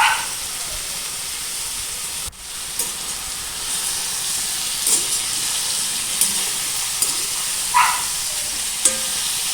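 Potatoes and onions fry in a little oil with a steady, close hiss and sizzle, broken by occasional small pops and one brief knock of a utensil; no talking.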